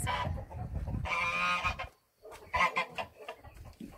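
Hens and roosters cluck in a farmyard, a loud burst of cackling followed by a short pause and then a run of choppy clucks, all close by with no voices.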